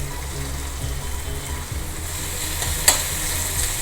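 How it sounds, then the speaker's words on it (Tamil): Onion, tomato and curry leaves sautéing in a pan for rava semiya kichadi, a loud continuous sizzle with stirring scrapes and one sharp clink near the end, close and alone. "கொஞ்சம் வெங்காயமும் தக்காளியும் வதங்கிடுத்து"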